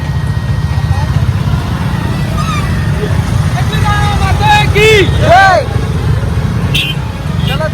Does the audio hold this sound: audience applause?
no